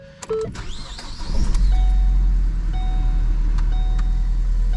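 Car engine idling after a cold start, a low steady rumble with slight RPM wavering, preceded by a brief whirring electric motor and a few clicks.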